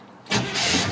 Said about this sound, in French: On va le mettre en marche.